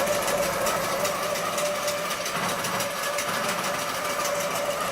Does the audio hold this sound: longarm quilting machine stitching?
yes